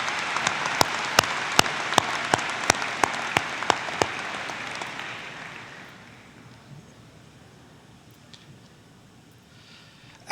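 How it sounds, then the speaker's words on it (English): At a school district recognition ceremony, an audience gives a round of applause: steady dense clapping with a few sharp, distinct claps up front, thinning and fading after about six seconds into quiet room noise. "Ladies and gentlemen, please join me in a round of applause"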